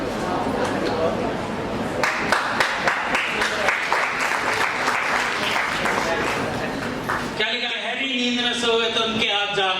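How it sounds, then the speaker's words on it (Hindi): Audience at a network marketing training session in Meerut bursts into loud, sustained applause with scattered sharp claps, then a sudden shift near the end to a brighter, tonal music-like sound over the crowd. "जोरदार तालियां"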